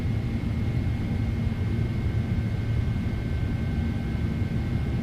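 PMDG 777 airliner engines during takeoff in a flight simulator, a steady broad roar with low rumble and a faint high whine, even and continuous throughout, without speech.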